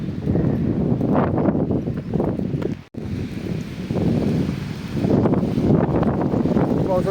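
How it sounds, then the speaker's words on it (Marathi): Strong wind gusts buffet the microphone outdoors, a rough, roaring rush that swells and fades in waves with a brief dropout in the middle. "हवा बी मजबूत चालू आहे"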